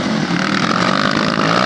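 A motorcycle engine drones steadily at close range in a brief burst, loud and continuous with no voices over it.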